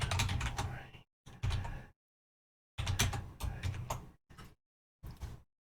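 Quick bursts of typing on a computer keyboard, with soft clustered key taps in several short runs broken by brief silences, recorded close and quiet.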